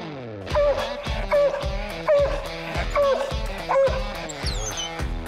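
A national champion coonhound from Kentucky bays at a raccoon up a tree, giving a rhythmic series of loud, drawn-out barks with whining edges, roughly one every half second, heard from some distance.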